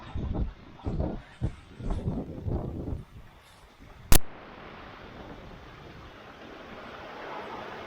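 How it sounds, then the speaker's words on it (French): Heavy Atlantic ocean swell and wind rush in gusty bursts, a sharp knock sounds, then a steady broad roar of churning water follows. "Là, il y a une super méga houle aujourd'hui."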